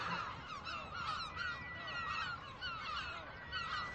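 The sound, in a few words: gulls calling at a nesting colony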